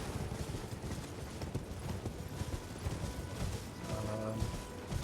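Horse hooves clip-clop steadily in the video game Elden Ring, a continuous mid-level trotting rhythm under game ambience, with no speech.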